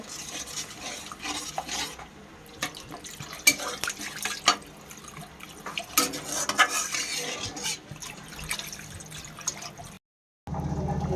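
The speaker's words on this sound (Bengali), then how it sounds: "এই মশলাটার মধ্যে আমরা জল অ্যাড করে দেব" Water poured and stirred into paneer kofta masala in a cooking pan, with continuous scraping and clinking of a utensil against metal, irregular stirring strokes close by, ending in a brief silence before a louder sizzle.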